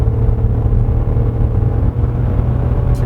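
Hyundai Casper Van 1.0 gasoline engine at full throttle on a winding road, a loud, steady low cabin drone and rumble with a constant hum, heard from inside the car without speech.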